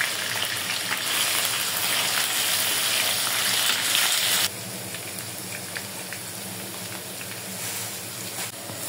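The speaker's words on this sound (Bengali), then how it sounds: "আলুগুলো একটু ভাজি করে নেব।" Potato pieces sprinkled with turmeric powder fry in hot oil, a loud, close crackling sizzle that drops abruptly to a quieter, steady fizz halfway through.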